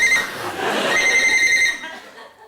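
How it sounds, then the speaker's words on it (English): A telephone-ring buzzer sound effect on a TV quiz show, a trilling electronic ring that holds steady and then fades out, heard alone. "That's a phone."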